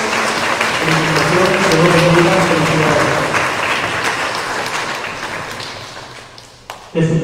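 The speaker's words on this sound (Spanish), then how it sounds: "Le damos fuerte aplauso a Jack y a su familia." A congregation claps for a family during a Spanish-language Sunday Mass, steady applause filling the church for several seconds before tapering off, with some voices mixed in.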